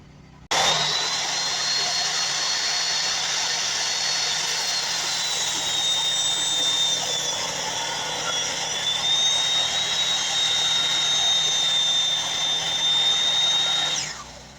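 Saw blade cutting through a 1/2 inch wood board in a home workshop: a loud, sustained high whine runs for about fourteen seconds, starting and stopping abruptly, with no talking.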